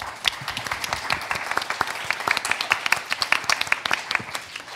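Audience applause fills the room, a steady wash of many hands clapping with sharp individual claps standing out, loud and continuous throughout.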